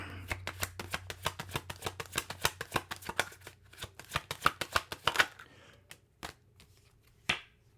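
Tarot cards are riffled and shuffled in a quick run of crisp, rhythmic flicks and snaps that thin out toward the end, with a last sharp slap, close and clear with no talking.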